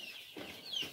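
Kalij pheasants on a poultry farm give two short, soft clucks about half a second apart, close by with light background noise and no talking.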